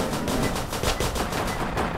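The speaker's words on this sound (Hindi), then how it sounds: "मैं गोली चलाया ना" Rapid gunfire from the Roblox Choo Choo Charles game rattles out in a fast, evenly spaced burst of about ten loud shots, close and sharp, with no voices over it.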